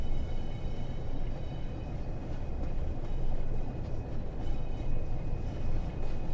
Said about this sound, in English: We've got a different train that's carrying freight here.